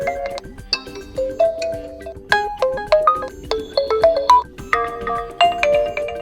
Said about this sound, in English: We can also listen to some of these pre-installed ringtones.